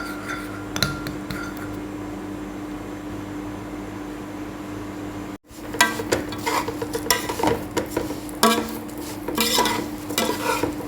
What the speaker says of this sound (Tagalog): dapat alaga sa halo para hindi masunog